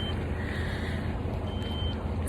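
A rental car's alarm, set off by humidity, sounds outdoors as a steady high electronic tone over a constant low rumble of engine or street noise, with no talking.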